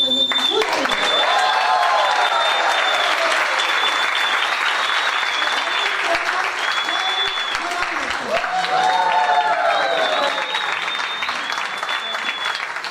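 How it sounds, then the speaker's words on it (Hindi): Steady audience applause at a training session in an auditorium in Mumbai, dense and sustained throughout, with a voice speaking over the clapping. "जोरदार ताली से, जोरदार ताली"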